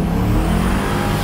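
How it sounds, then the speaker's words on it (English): Ford Mustang with a 42 lb injector swap spinning its tires in first gear during a quick test drive, a loud, continuous engine roar with tire noise, close and unbroken. "First gear, of course, always spins."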